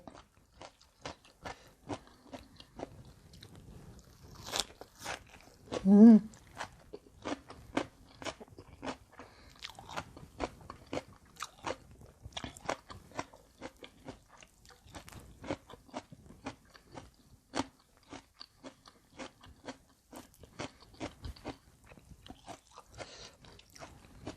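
Crispy rice crackers are crunched and chewed with som tam made with fermented fish, giving close, sharp crunches at an irregular pace throughout, with one louder burst of chewing noise partway through and quiet moments between bites.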